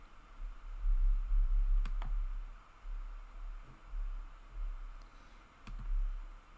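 Computer mouse clicks during work in a website builder, a couple of sharp close clicks early and a few more later, set against low rumbling room noise.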